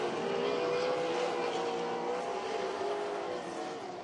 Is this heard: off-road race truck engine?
yes